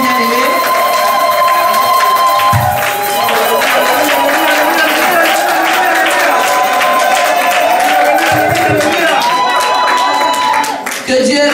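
A church congregation at a women's convention applauds and cheers in praise, loud continuous clapping and voices layered with music for over ten seconds.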